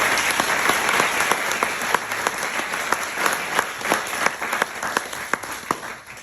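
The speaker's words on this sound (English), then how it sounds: "Let's give Dr. Chalapa a big applause." A graduation audience at an Emory business analytics ceremony applauding a faculty member, dense, loud clapping from a large crowd sustained throughout, close and lively.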